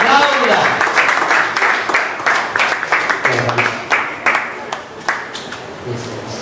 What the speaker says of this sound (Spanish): Aplauda, aplauda, iglesia.